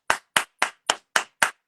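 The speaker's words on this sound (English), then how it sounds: "Clap for yourself." An audience claps at a talk, six sharp, evenly spaced claps in unison, loud and close with silence between them.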